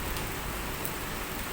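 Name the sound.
rain falling, raindrops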